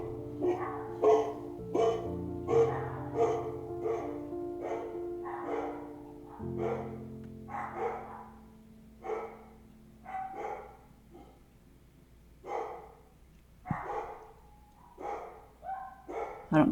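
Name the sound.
dogs barking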